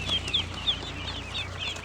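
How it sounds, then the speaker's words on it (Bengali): Ducklings being sold at a market give high, thin peeping calls, several short repeated cheeps at a steady rhythm over a low background hum. "হাঁসের চালান, হাঁসের বাচ্চা লন।"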